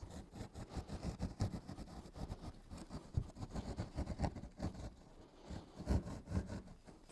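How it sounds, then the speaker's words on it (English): A handheld keyhole saw cuts a circle through a ceiling tile in quick, steady back-and-forth strokes, close and moderately loud, with a rough scratchy rasp and no talking. "I'm going to take my keyhole saw and just cut a circle"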